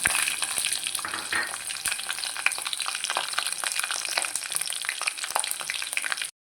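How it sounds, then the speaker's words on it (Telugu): Cloves, cinnamon, curry leaves and green chillies spit and crackle in hot oil, a loud busy sizzle with sharp pops and stirring scrapes that cuts off abruptly, no voices. "ఇవి లవంగా, దాల్చిన చెక్క వేసేసుకుందండి. కరివేపాకు, పచ్చిమిరపకాయలు,"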